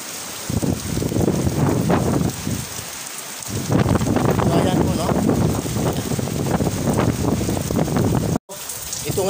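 Strong typhoon wind during Typhoon Paeng (Nalgae) in Southern Leyte, Philippines, a loud, continuous roar and gusting buffet against the microphone, with rain-like hiss throughout and a brief dropout near the end; a voice talks over it.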